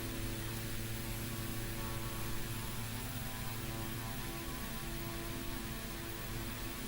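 Carenado B1900D twin-turboprop in the X-Plane 11 simulator, a steady, continuous engine drone with a tonal hum that holds level throughout with no talk over it.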